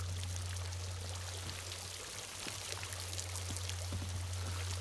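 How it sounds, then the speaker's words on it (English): Water rushing into the hull of a pirate ship in the video game Sea of Thieves, a steady pouring, splashing flow over a constant low hum. "I hear water rushing in."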